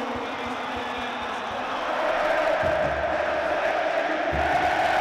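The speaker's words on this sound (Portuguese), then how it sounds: "Logo depois, a torcida tava comemorando." Football crowd in a stadium roaring after a Grêmio goal against Juventude, a broad sustained wall of cheering that swells partway through, with some low thumps underneath.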